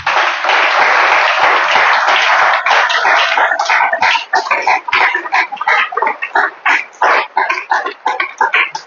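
A church congregation bursts into applause and cheering in praise of the Lord, a dense continuous roar at first that thins into scattered, choppy clapping and shouts toward the end.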